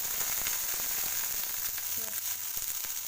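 Fenugreek leaves and tomato fry in a pan, giving a dense, even sizzle close by for a few seconds, with faint stirring scrapes and no speech.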